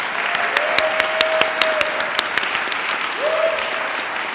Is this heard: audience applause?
yes